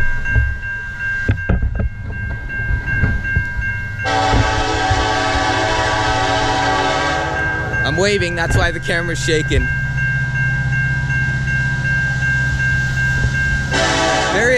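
A CN intermodal freight train passes a road crossing with a Western Cullen Hayes bell, its loud horn sounding in long blasts over a steady rumble and the crossing bell's ringing, while a nearby voice talks briefly.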